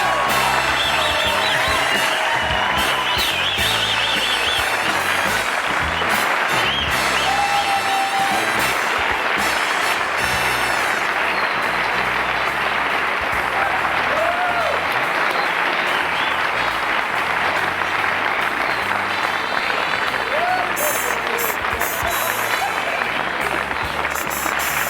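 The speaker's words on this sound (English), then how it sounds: "I'm humbled by that applause." Studio audience at a late-night talk show erupting in sustained applause and cheering, loud and dense with scattered whoops, continuing unbroken for the whole stretch.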